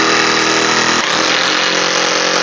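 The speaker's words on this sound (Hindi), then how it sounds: "इसलिए इस पोजीशन पे रखते हैं और यहाँ पर ड्रिल मारते हैं, इसको 2 सुराख करते हैं।" A power drill bores holes into a wall to fit a double-door refrigerator shelf, a loud continuous whining drone throughout with a harsher grinding texture after the first second.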